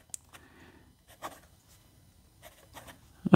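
Fountain pen nib scratching across paper in short, faint, separate strokes with quiet gaps between them, close to the microphone, ending with a louder handling thump.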